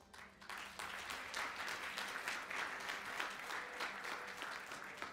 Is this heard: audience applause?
yes